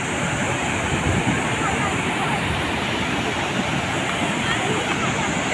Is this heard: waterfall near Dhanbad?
yes